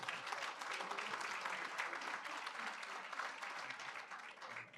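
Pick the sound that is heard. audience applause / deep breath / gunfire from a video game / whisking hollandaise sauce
audience applause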